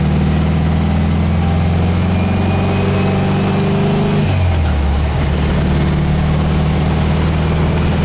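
A warm car engine running loud and close at a fast idle, a steady low hum that drops in pitch partway through as the revs settle lower.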